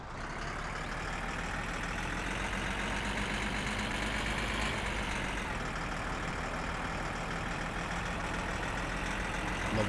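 A truck engine idles steadily in the video game My Summer Car, a continuous low rumble with mid-range drone held at even loudness for the whole stretch, with no voices over it.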